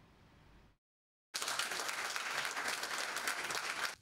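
After a short quiet gap, a crowd of Lions Club International members bursts into steady, sustained applause that continues loudly to the end.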